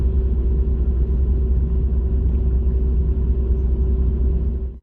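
A sleeper bus travelling a non-toll road near Indralaya between Palembang and Jakarta gives off a steady low engine rumble and road drone, constant and close, cutting off abruptly at the end.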